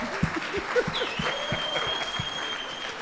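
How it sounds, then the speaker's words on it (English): Audience applause at a panel discussion launch event, a steady mid-level wash of clapping with some individual claps standing out, and a voice briefly audible partway through. "May you please give yourselves a round of applause on my behalf."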